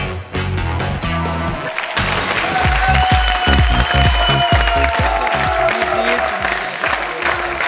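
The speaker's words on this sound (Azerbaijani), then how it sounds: "alqışlar kino komandası üçündür və sinema komandası üçündə" A studio audience at a TV game show applauds the winning team, a loud, sustained burst of clapping with some cheering that swells after a brief opening and continues throughout.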